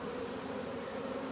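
A swarm of honeybees gives off a dense, steady drone at close range, unbroken for the whole moment with no voices.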